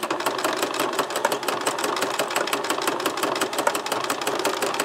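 A sewing machine stitches back and forth on a simple pencil bag, its needle hammering in a fast, even mechanical rhythm, close and steady for several seconds without voices.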